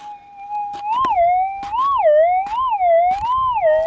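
Metal detector signal over a gold specimen in an Australian goldfield: a loud, steady warbling electronic tone that rises and falls repeatedly, with faint clicks and knocks from searching through rocks, no talking.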